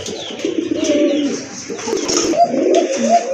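Pigeons coo loudly and close by in a steady, overlapping run of throaty, rolling calls, with a few soft chirps mixed in.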